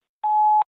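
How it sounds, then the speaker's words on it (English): A single steady electronic beep, about half a second long, sounds clean and loud on a voicemail line as the signal to start recording. "At the tone, please record your message."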